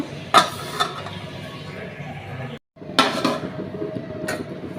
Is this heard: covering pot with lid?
yes